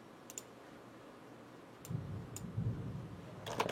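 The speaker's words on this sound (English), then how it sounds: "I'm just going to type in some random letters." Random letters typed on a computer keyboard: a few sparse, light clicks and taps spread across a quiet stretch, with faint low rumbling background noise and no talking.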